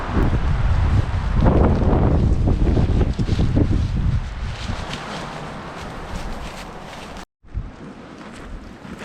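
Strong gusting wind buffets the microphone outdoors during a South Dakota whitetail deer hunt, loud and roaring for the first few seconds, then easing to a steadier rush with a brief dropout.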